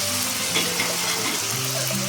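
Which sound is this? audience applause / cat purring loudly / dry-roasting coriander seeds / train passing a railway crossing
dry-roasting coriander seeds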